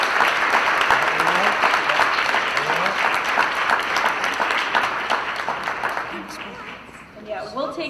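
A school board meeting audience claps for athletes and coaches, a loud, dense round of applause that slowly thins and fades toward the end, with a few voices over the tail.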